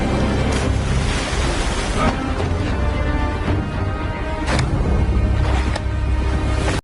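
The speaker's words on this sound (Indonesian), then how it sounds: "Pelarian mereka akhirnya sampai di sebuah area sungai dengan arus yang sangat deras." A fast, powerful river current rushing steadily and loudly throughout, a dense broadband roar of churning water with no pauses.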